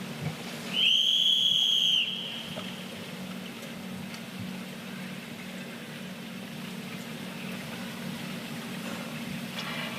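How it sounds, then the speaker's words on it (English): A referee's sharp, high whistle blast rings out for about a second early on at a Paralympic swimming venue, then fades into a quiet, low hum of the large indoor space. "As the referee's whistle sounds, there's meant to be quiet in the venue"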